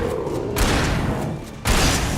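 Gunshots fired in the video game Alan Wake, a sustained burst of loud, dense blasts with a brief lull before a second burst starts up.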